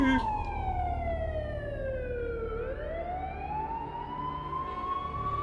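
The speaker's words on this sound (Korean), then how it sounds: "잠시 후 구급차 소리가 울려 퍼지고" An ambulance siren wails steadily with a long falling-then-rising pitch sweep, loud and close, under constant road noise with no talking.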